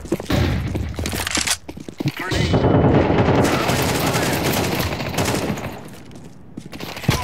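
Rapid gunfire in the Counter-Strike 2 video game, dense bursts and cracking shots packed together almost without a break, heard loud under players talking in Spanish.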